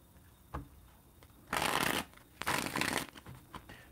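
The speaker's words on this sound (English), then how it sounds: "shuffle up the cards." Tarot cards shuffled in two bursts, a riffling flutter of card edges up close with a soft tap before and light handling after, no voices.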